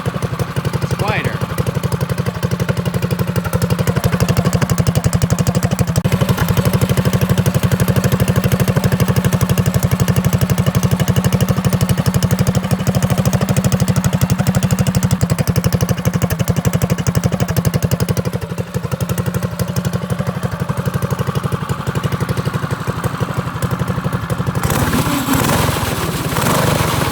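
A Predator small engine fitted with a muffler on a drift trike, running steadily at a low, throaty idle for the whole stretch, loud and close with a brief blip in revs near the end.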